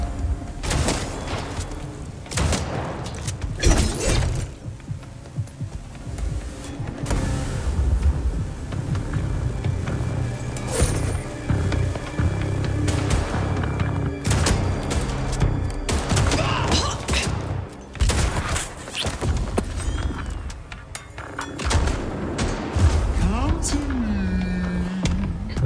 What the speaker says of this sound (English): they are shooting at me now